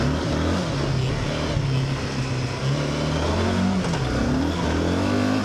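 A Yamaha Super Tenere 750 motorcycle rides over a dirt track, its engine droning steadily at mid revs with small rises and dips, close and continuous over rough broadband road and wind noise.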